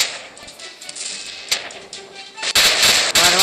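Rapid machine-gun bursts in a tank video game, with a Demolition vehicle firing; dense, loud crackling volleys that grow heavier and more sustained toward the end, with no one talking over them.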